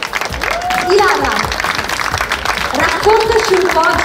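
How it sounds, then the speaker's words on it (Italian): Audience applause greets a singer taking the stage at a Miss Venice Beach 2021 event in Sottomarina, a steady wash of clapping that runs through the clip beneath a presenter's voice. "Ecco qui, un bel applauso!"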